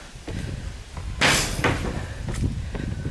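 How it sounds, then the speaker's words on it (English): A rain-swollen door sticking as it is pulled open, with scraping, a sharp loud jolt and knocks as it frees, plus a few footsteps. "It's been raining, so that door is swollen."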